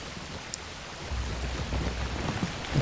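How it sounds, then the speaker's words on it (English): Soft, steady rain patters over armor in the medieval village-building game Manor Lords, a continuous hiss with a low rumble joining partway through. "The rain coming down on top of the armor."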